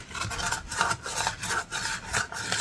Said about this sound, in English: We're going to just clean off this surface with a little whiz wheel.